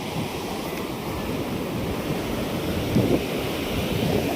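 Sea waves wash onto a nearby shore in a continuous broadband roar, with wind buffeting the microphone and a slight swell in surf partway through, and no voices.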